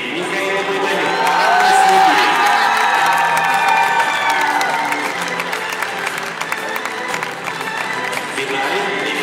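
A crowd at a youth ballroom dance competition in Minsk applauds and cheers a couple being introduced in the final, a dense sustained wash of clapping with whoops, while an announcer speaks over it.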